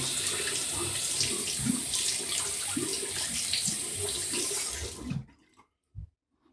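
Warm water runs steadily from a tap during a wet shave with a bright splashing hiss for about five seconds, then shuts off, followed by a couple of faint drips.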